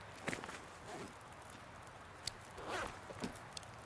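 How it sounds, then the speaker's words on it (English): A faint footstep crunches in the snowy survival game The Long Dark, with a few soft, scattered steps against a quiet background hiss. "Just heard the one footstep"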